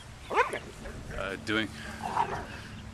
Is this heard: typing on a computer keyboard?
no